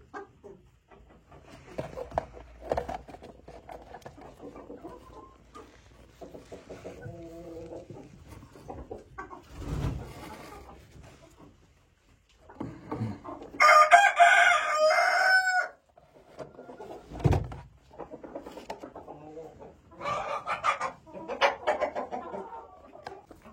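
Village hens and chickens clucking in a backyard in spring, with a rooster crowing loudly partway through and scattered fowl calls close by.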